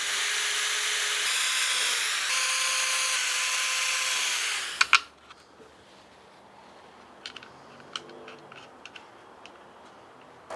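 Power drill boring holes in a cucoloris, a loud whining spin for several seconds that winds down abruptly, then quiet handling knocks and faint taps.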